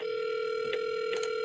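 An outgoing call rings on a telephone line, a steady tone with faint clicks, heard close and alone.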